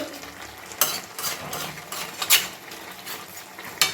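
A fish head and cabbage curry with potato is stirred and sautéed in a pan, the low sizzle punctuated by several sharp scraping strokes of a spatula at irregular intervals.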